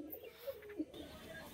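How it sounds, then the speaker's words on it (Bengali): Pigeons in a loft give a couple of faint, soft low coos over quiet room tone. "এখানে উপরে কবুতরগুলো কোন জায়গায় ফাঁক ফোকরে দেখুন বন্ধুরা"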